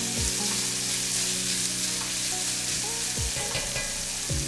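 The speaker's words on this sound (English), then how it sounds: "we're just going to saute these for about 5 minutes" Chopped vegetables sautéing in a pan with salt for a gluten-free, dairy-free chicken tortilla soup: a steady, close sizzle and hiss with occasional scraping stirs of a utensil against the pan, no voices.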